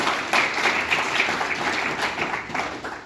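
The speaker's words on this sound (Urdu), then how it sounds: "تو میں یہ چاہوں گا کہ آپ سب کی تالیوں میں ہم ان کو تھوڑا سا یہ داد رسی کریں" A seminar audience at a hospital memorial gathering breaks into sustained, dense applause that stays steady and fairly loud for several seconds, with no talking over it.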